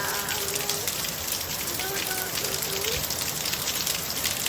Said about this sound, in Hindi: देखना कितनी तेज बारिश हो रही है